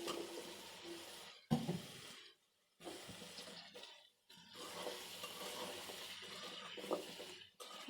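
Pumpkin and Malabar spinach stalks are tipped into a frying hilsa fish curry, giving a rustling, sizzling clatter with a short scrape and brief quiet gaps, heard close but at low level and with no voices.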